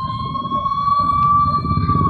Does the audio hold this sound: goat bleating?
no